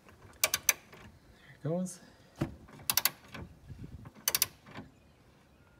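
Ratchet wrench fitted with a 14 mm six-sided hex socket breaking loose rusted nuts on a 2002 V6 Acura TL/CL transmission mount, giving repeated short bursts of sharp clicking with a creak between them, close by, while someone speaks briefly.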